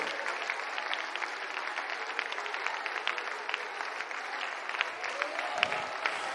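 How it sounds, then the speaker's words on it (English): A church congregation claps hands in a steady, dense patter of applause, with voices murmuring faintly underneath. "Somebody stand up and clap those hands and lift up that voice right now."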